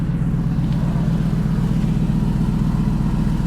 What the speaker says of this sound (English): Nice mellow tone. So it has Bassani exhaust.